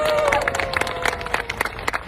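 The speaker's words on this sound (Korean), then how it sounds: "큰 박수 부탁드립니다" Applause from a crowd at an outdoor election campaign rally at a bus terminal in Yeonggwang, with scattered individual claps and an announcer's amplified voice running over the top.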